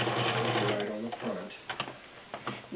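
A Morse Apollo 6500 sewing machine stitches through layers of woven upholstery in a loud continuous whir, then slows into a few separate stitch clicks.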